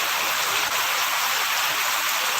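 Dense, continuous roar of heavy rain pouring down in Mandamarri, loud and steady with no pauses and no voices.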